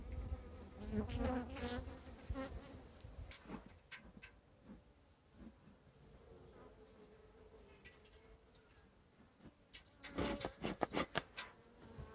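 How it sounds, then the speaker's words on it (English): Honeybees buzz in a dense, continuous drone inside an opened hive, swelling louder at the start and end with sharp ticks and knocks from the hive. "You can see the bees are moving pretty decent"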